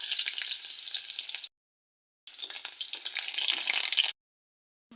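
Chopped onion and bay leaves fry in hot oil in a kadai, a bright steady sizzle in two bursts with a silent gap between, no voices.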